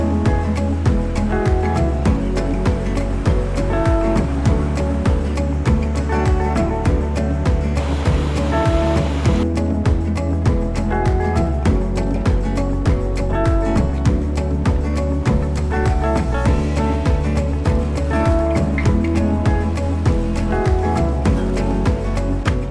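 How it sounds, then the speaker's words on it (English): Surf breaking on the beach at Cape Hillsborough, Australia, a continuous loud wash of waves with rolling swells, close and steady throughout, with no one talking. "You can spend the day here at this amazing beach."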